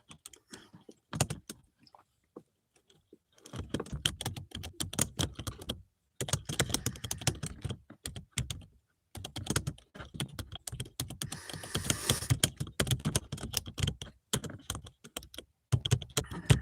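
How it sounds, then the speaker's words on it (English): Close, quick clicking of fingers on a computer keyboard, typed in irregular bursts with brief pauses between. "I'm typing something quick."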